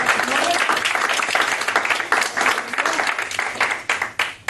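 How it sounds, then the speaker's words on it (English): Loud, sustained applause from an audience, dense clapping throughout that thins slightly toward the end. "you get this gentleman a round of applause to take the seat"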